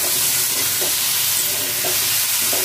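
Chicken and potatoes stir-fried in spices in a pan give a loud, steady close sizzle, with a few soft stirring scrapes through it and no talking.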